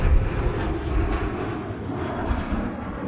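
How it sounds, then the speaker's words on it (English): A Rex Boeing 737-800 roars down runway 34 right at Sydney Airport on departure, its jet engines giving a loud, sustained low rumble close by. "The Rex 738 there, departing runway 34 right."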